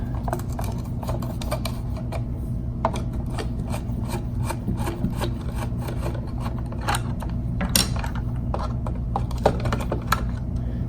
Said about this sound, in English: The cover comes off with a standard screwdriver